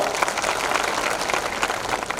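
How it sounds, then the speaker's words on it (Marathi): A crowd applauds with dense, continuous clapping at close range, steady throughout. "संजय गांधी निराधारच्या कार्यकर्त्यांच्यासाठी टाळ्या वाजून त्याचं अभिनंदन करा"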